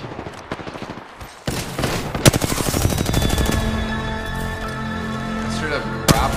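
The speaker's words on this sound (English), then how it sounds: "There's two people back there. They're shooting each other." Rapid automatic gunfire in a shooter video game, loud and continuous with dense repeating shots and a few louder single blasts, mixed with game sound effects under a player's voice.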